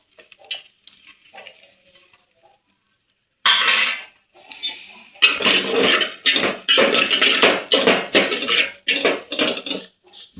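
Onions dropped into hot oil with curry leaves in a pan: a sudden loud sizzle, then repeated bursts of frying hiss as a utensil stirs and scrapes, after a few faint clinks.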